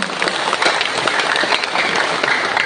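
An audience at a school grand alumni homecoming applauds loudly and steadily, dense clapping filling the space without a break.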